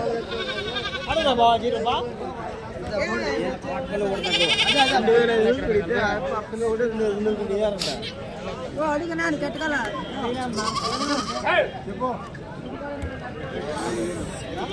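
Goats and sheep bleat repeatedly at a busy Tuesday livestock market in Kadiri, their calls overlapping close by amid a constant hubbub of people talking.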